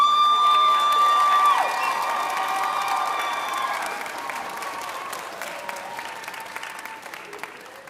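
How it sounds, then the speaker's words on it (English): Audience at a Tae Kwon-Do school Christmas party applauding and cheering, a loud spread of clapping with scattered whoops that starts strong over a fading tone and slowly thins out. "One more round of applause"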